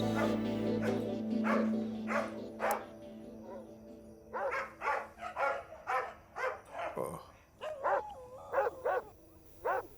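Several dogs bark repeatedly at night in sharp bursts, some close and loud, with a low steady hum beneath and a voice speaking among the barks.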